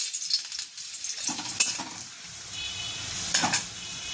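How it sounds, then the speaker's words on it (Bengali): Garlic sizzles in hot oil for a chilli rohu fish dish, a steady bright crackle with a few louder stirring scrapes of a utensil in the pan, close and without any talking. "তো প্রথমে তেলে আমি রসুনটা দিয়ে দিচ্ছি।"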